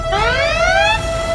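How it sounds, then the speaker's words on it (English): Starship red alert klaxon: a loud electronic wail whose harmonics sweep upward together over about a second, then hold as a steady tone above a low rumbling hum. "Shields up! Red alert!"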